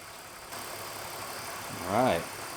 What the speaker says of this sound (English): This means that our compressor is actually pumping.